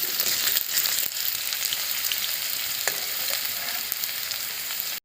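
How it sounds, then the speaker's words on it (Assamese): Potatoes frying in a pan give a steady, dense sizzle close by, with faint stirring and no talk, cutting off abruptly at the end. "এতিয়া আলুখিনি ধুনীয়াকৈ আমি ভাজি ল'ম।"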